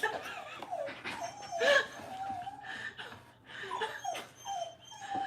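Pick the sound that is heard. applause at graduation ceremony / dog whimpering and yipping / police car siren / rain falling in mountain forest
dog whimpering and yipping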